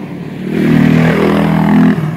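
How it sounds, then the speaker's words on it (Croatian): A motorbike engine runs close by in a jungle-like area, a steady loud droning hum with a rough low rumble that swells slightly and holds for about two seconds before easing. "Evo ga neki motor."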